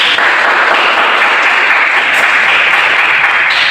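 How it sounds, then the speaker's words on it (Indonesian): A classroom full of people claps in steady, dense applause that holds at full strength throughout. "kasih tepuk tangan dulu saudara"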